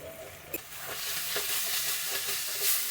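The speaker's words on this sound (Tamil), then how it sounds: "தக்காளி நல்லா வதங்கிச்சு" Tomatoes sizzle and hiss steadily in a hot pan, with a few soft clinks and stirring scrapes over the constant frying noise.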